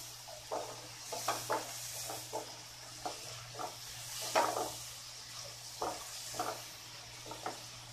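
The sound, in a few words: spice paste being stirred and fried in a pan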